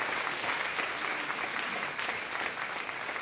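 A church congregation applauds loudly and steadily, dense clapping with crowd noise sustained throughout, no clear speech over it.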